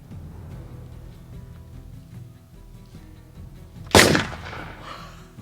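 A single sharp gunshot cracks out near the end, loud and close, over a low background hum with no talking.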